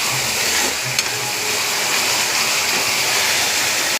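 Curry leaves, onions and a little spring onion frying in a pan, a loud steady broadband sizzle and hiss that holds evenly before cutting off abruptly.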